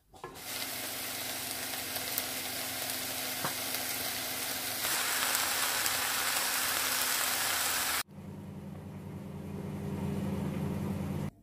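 Greek risotto with mushrooms and onion sizzling and frying steadily in a pan, a loud continuous hiss with brief stirring scrapes, cutting off abruptly and returning as a softer sizzle.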